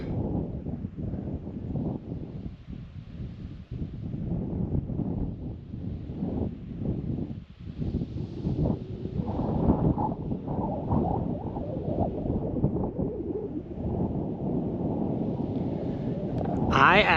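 Strong wind gusting across the mic at a camp on the edge of the Salt River Canyon Wilderness in Arizona, a loud, continuous low roar that surges and fades, with no talking.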